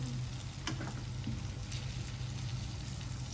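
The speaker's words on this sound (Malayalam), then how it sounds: "ചിക്കൻ നമ്മൾ ഫ്രൈ ചെയ്തെടുക്കണം." Chicken fries in a pan with a steady, soft sizzle and crackle of hot oil, fairly quiet and close, with a few faint scrapes of stirring.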